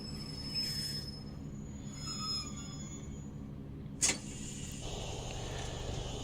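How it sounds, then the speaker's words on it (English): Brakes of a Class 153 train squeal in Train Simulator Classic, a steady high metallic whine over a constant low engine and rail rumble, with a sharp brief clank partway through and no talking. "I'm applying the brakes a bit too hard there"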